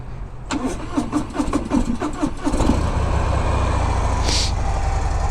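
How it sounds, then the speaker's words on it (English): A stock-exhaust 2024 Harley-Davidson Sport Glide cranks with a rapid starter chatter for a couple of seconds, then catches and settles into a steady, close idle. "Keep in mind it's only a stock exhaust, so it's gonna sound like a sewing machine."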